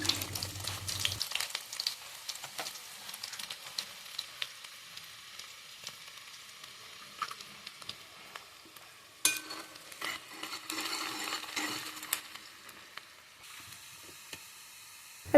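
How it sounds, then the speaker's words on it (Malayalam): Chopped onions frying in oil in a pan for a Kerala-style anchovy curry, a faint, steady sizzle and crackle close by, with a few louder scraping stirs partway through and no voices. "ഒരു ചട്ടി എടുത്ത് അതിലേക്ക് എണ്ണ ഒഴിച്ച് നേരത്തെ അരിഞ്ഞയച്ച ഉള്ളി അതിലേക്ക് ഇട്ട് കൊടുക്കാം"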